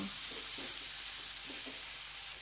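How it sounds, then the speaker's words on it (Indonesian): Carrots and corn stir-fry in a pan with salt and seasoning for a mini pizza filling. A faint, soft sizzle runs throughout, broken by a few light stirring knocks. "kita masukkan wortelnya dan jagung kemudian tambahkan penyedap garam kita aduk aduk hingga matang"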